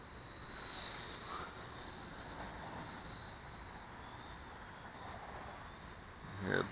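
A Blade Nano CP S RC helicopter flies outdoors in calm air, giving a faint, steady, high-pitched rotor and motor whine that stays distant and even throughout, with no talking.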